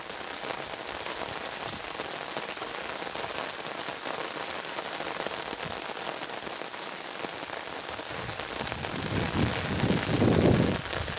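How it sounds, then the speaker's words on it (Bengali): Heavy rain pours down steadily in darkness, a dense hiss of drops on surfaces that swells louder toward the end, with no voices. "পুরা বৃষ্টি পড়তেছে।"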